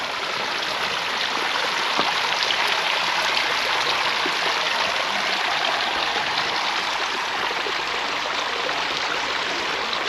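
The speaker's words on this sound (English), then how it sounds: "And the water is coming through here, look." Water rushes steadily through stone channels in the Gardens of Alfabia in Mallorca, a dense, even, close-up hiss of flowing water with no pauses over ten seconds.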